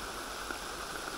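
Heavy rain pours steadily over a sand quarry during a storm, a dense, unbroken hiss of water with no pauses, close and fairly loud throughout.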